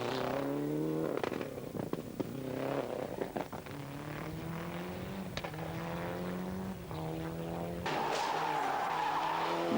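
A 1995 European Championship rally car on a Rali Vinho da Madeira stage revs hard through repeated rising gear pulls and sharp shifts, with tires skidding and scrabbling, loud and close.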